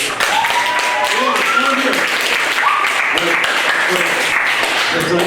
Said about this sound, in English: Can we have one more round of applause for the stars of tonight's show?